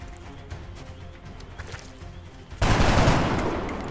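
Assault rifle fire in the strategy game XCOM: Enemy Within, a sudden loud burst of shots that sets in after a stretch of quiet game ambience and then rings out as it fades.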